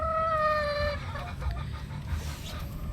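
Carichua pullets cluck on a farm, several close calls at first with a steady low rumble of barnyard background behind them.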